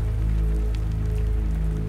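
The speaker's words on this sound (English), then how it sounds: "Rain tapped against the metal shingles of the house" Rain tapping on the metal shingles of a house during a worsening night storm, a steady dense patter over a low continuous rumble, with no voices.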